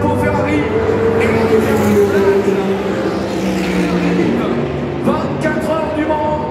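Ferrari number 83 race car crossing the finish at the Le Mans 24 Hours, its engine droning loud and steady beneath an excited commentator and a roaring grandstand crowd.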